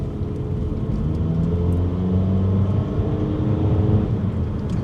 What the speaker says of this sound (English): a little bit of engine groan there